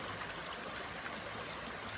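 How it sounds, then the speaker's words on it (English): A freshwater stream runs through woodland, giving a steady broadband rush of flowing water that holds an even, moderate level throughout with no pauses and no other sounds on top. "The freshwater stream joins the orange stream right up there."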